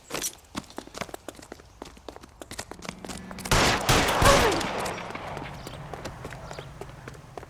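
Gunfire in the L.A. Noire video game: scattered sharp shots and clicks, then a loud, dense burst of shooting that fades into sparser cracks and footsteps.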